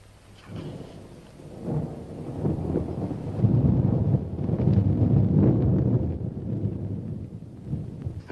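A thunderstorm with rain rumbles and hisses continuously, the rolling thunder swelling loud in the middle and easing toward the end, with no voices.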